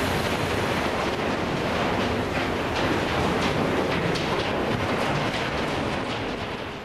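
A heavy iron ore freight train, its wagons carrying around 26,000 tonnes of ore, rumbles past in a continuous broad roar, loud and close, with wind buffeting the microphone.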